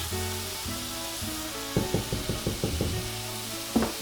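Ground beef hamburger frying in a pan, a steady sizzle with a sauce being stirred nearby; a run of quick knocking and scraping taps breaks in midway and again near the end, close and clear with no voices.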